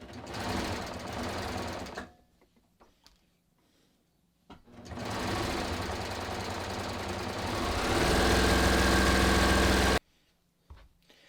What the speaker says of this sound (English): I'm just going to sew down